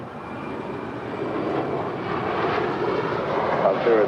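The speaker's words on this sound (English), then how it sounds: "That is Cathay Pacific Cargo, Flight 2096, coming in from Anchorage. It's a 747-8, a minute away from touching down here on 25 left." A Cathay Pacific Cargo Boeing 747-8 coming in to land on runway 25 left, a broad jet-engine roar that swells slowly and stays loud.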